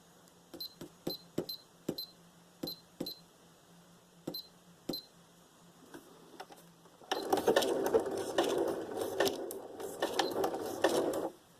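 Sewing machine stitching paper tags and ephemera for a junk journal, first a series of slow, separate clunking stitches, then a fast continuous run of loud mechanical whirring toward the end.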